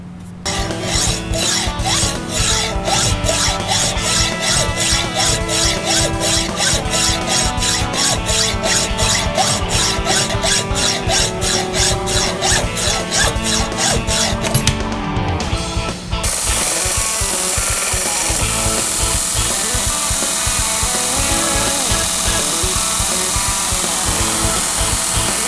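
A power tool grinds steadily through an overlong brake booster rod on a '64 Ford Galaxie, a continuous rasping cut that is loud and close. The tone shifts partway through, with no talking.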